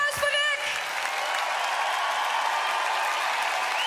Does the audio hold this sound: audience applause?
yes